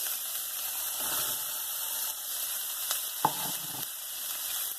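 Carrots fry in a pan over a medium flame, a steady soft sizzle with occasional light clicks of a spoon against the pan.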